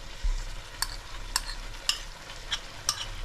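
Sour yogurt is stirred into a whole chicken in a non-stick pan over a low sizzle, with about five sharp spoon scrapes and clinks spaced roughly half a second apart.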